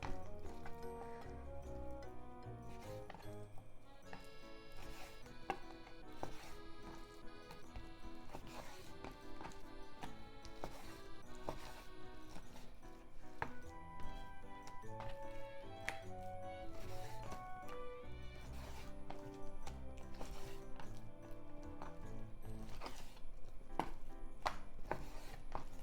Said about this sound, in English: let's cut it into bite-sized pieces